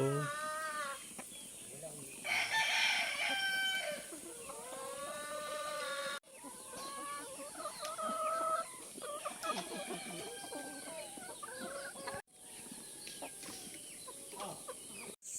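Backyard chickens, including Rhode Island hens, cluck and squawk in busy overlapping bursts while being fed, fairly close, with a person talking now and then among them.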